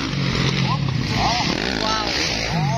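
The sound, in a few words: motorcycle exhaust at berm race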